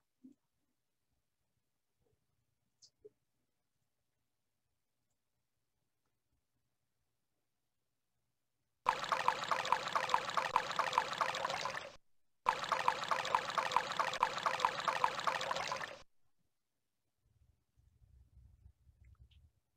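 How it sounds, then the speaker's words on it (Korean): A recording of running tap water played back in two steady rushing bursts of about three seconds each, separated by a short gap, loud and close with near silence before and after. "제가 수돗물 소리를 끌어올게요. 수돗물 소리를 하나 보내드리겠습니다."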